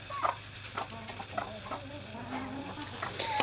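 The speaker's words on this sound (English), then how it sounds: "when a hen is broody, they get a specific clicky sound" Soft clucking and short clicky calls from broody hens in a barnyard, with a few brighter squawks over a steady background hum.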